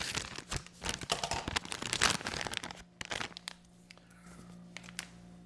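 Plastic cheese bag being crinkled and torn open, with a burst of loud crackling and rustling that settles into softer handling noises and a low hum, close up; shredded cheese for a cheesy potatoes dish.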